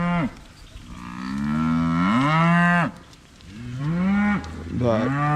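Brahma cross heifers and other cattle moo in a loud, drawn-out sequence of rising and falling calls, several overlapping bellows close by with short pauses between them.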